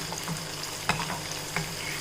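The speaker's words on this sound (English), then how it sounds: "Now just let it fry nicely." Spices sizzling in hot oil in a pan for ginger pickle, with a steady close crackle and a couple of sharp pops or stirring knocks, no voices.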